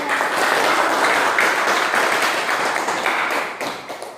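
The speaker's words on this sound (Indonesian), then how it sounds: "Mari kan kita berikan aplaus kepada" Classroom audience applauding group 1 after a presentation: a steady wash of many hands clapping for about four seconds, then thinning out and tapering off at the end.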